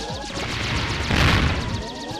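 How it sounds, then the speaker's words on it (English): Blasts and crashing booms from the Mega Man 8 video game, a dense burst of several loud explosions swelling near the middle. "Explosions!"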